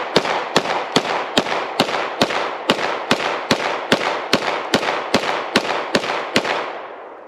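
A CZ P10F pistol fires about fifteen shots at a steady, quick pace on a shooting range, each report sharp and loud with a short ringing tail, followed by a brief fade after the last shot.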